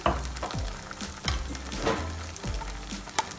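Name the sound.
stirring macaroni with pasta dressing in a pan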